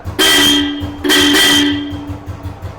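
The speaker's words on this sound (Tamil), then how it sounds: "காரோட ஹார்ன் தான், மெகாசோனிக்னு சொல்லுவாங்க." Two loud, sharp blasts from a megasonic car horn fitted to a 1991 Royal Enfield Deluxe motorcycle, close by, the second held longer, with a low engine idling underneath.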